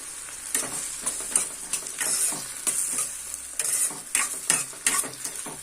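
Tomatoes with salt frying in a pan for tomato egg curry, a constant close sizzle broken by repeated stirring scrapes and clinks of a spoon against the pan.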